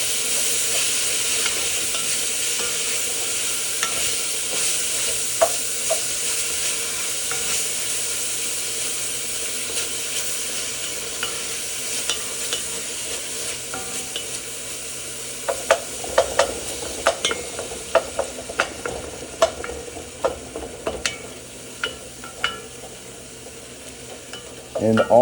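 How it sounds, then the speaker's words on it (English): Meat fries and sizzles in a pot for macaroni bechamel, a steady soft hiss, then a spoon stirs it with scraping, clattering strokes growing more frequent toward the end. "Give this a stir."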